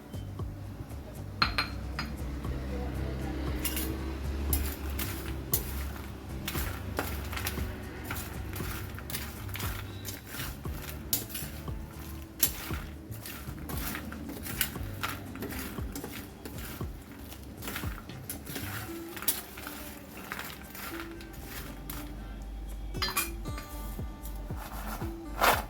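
Crispy fried peanut bhajiya, made to keep for two months, tossed with leftover masala: a steady, soft clatter of crunchy pieces clinking and rubbing against a bowl throughout, with no voices.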